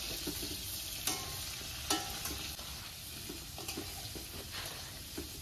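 Potatoes fry in a pan with cumin and turmeric, giving a steady low sizzle with a few sharp stirring clinks and scrapes. No one speaks.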